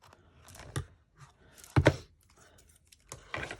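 Scissors snip through paper while a small mini composition book is trimmed, giving a few short crisp cuts with one louder crunchy snip in the middle and quiet pauses between.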